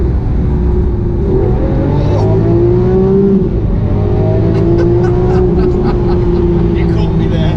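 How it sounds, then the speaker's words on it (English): Lamborghini Aventador S engine rising through the revs and blipping on downshifts, a loud steady roar with shifting tones heard from inside the car, with faint talk under it. "the noise is nothing better than not only hearing it rising through the revs"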